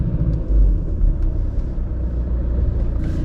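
A car creeping along slowly under clutch control with light throttle gives a steady low engine rumble and drone. It is fairly close and continuous, and no one speaks.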